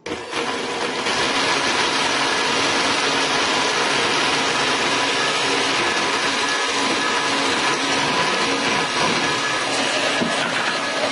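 A blender whirs loudly and steadily, blending cashews and a fire-roasted red pepper into vegan cheese. The motor drone holds constant for about ten seconds, alone with no voices.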